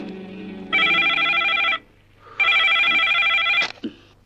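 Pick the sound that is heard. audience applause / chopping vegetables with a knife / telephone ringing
telephone ringing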